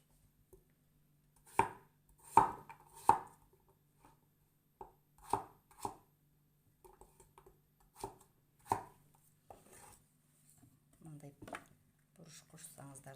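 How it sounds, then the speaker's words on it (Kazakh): A knife chops onion on a board in a home kitchen: sharp, scattered cuts arrive in small irregular bursts while someone talks quietly between them. "Пияз турап аласыздар."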